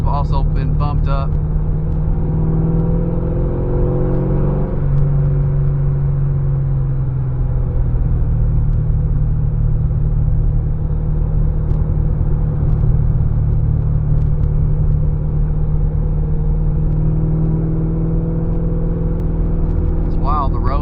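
C6 Z06 Corvette with a fully built high-compression engine driving on a mountain road, a loud steady low exhaust drone heard from inside with shifting engine tones, and a person speaking over it.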